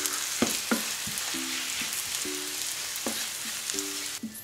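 Mushrooms and onion in barbecue sauce fry in a pan with a constant dense sizzle, while a utensil scrapes and stirs in repeated short strokes every half second or so, close and fairly loud.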